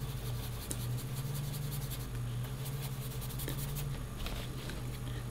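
A Derwent Coloursoft colour pencil scratches across paper up close, a continuous soft rasping stroke with a faint steady hum beneath, no talk.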